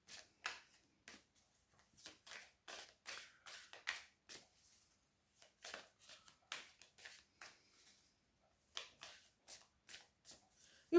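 Tarot cards being shuffled by hand in bursts of crisp riffling and slapping, repeated in quick clusters with short pauses, close and fairly quiet, with no talking.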